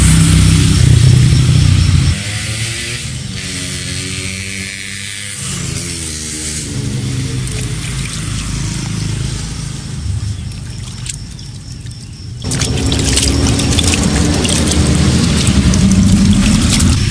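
Water sprays over a Yamaha RX King motorcycle in a loud, steady rushing hiss. The sound shifts in tone and intensity as the stream moves across the bike, then returns to a harsh, full spray.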